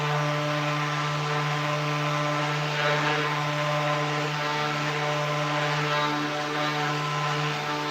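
Power sander running on a brass piece, a steady, loud, close droning hum with a strong low tone that holds unbroken throughout.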